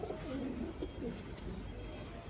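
A female pigeon coos in soft, repeated low warbles against a steady hiss of background noise, fairly faint and continuous.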